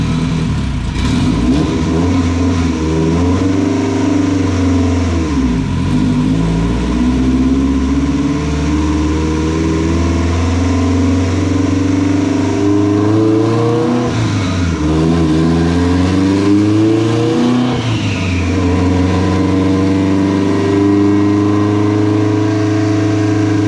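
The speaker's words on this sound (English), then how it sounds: "I'm about to make my second hit on the dyno" A turbocharged Honda H22 swapped into an EK hatchback revs hard on a dyno, its loud engine tone climbing and dropping through several sweeping pulls with steady drone between, no talking over it.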